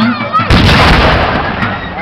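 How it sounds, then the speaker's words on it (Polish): A Napoleonic cannon booms during a battle reenactment at the Koźle fortress, one loud close blast with a rolling, rumbling tail. "Działa wciąż brzmią."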